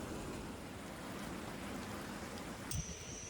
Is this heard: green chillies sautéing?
no